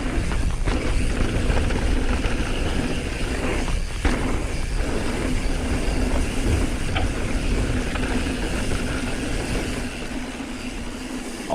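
DJI Mavic 2 Zoom drone flying and following a mountain bike rider on a trail ridge, a steady droning whir with a low hum under rattling, clattering ride noise, continuous and fairly loud throughout.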